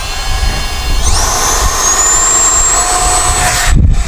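An Arrows RC Viper 50mm electric ducted-fan jet plane throttling up for takeoff, a loud, close whine that sweeps sharply upward and then holds a high, steady pitch before a brief gusty break near the end.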